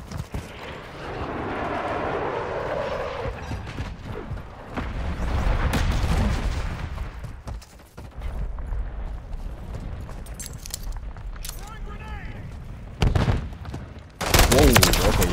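Modern Warfare III 2023 gunfire from a powerful weapon during an invasion: repeated loud shots and bursts of automatic fire with booming impacts, mixed with battlefield clatter and ambient noise, with a few sharp close blasts near the end.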